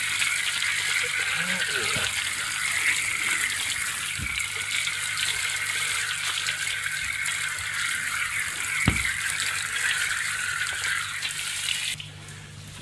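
Water rinsing cleaner off the hull of a Macgregor 26 boat, a steady close gushing spray that runs unbroken for most of the clip before cutting off near the end.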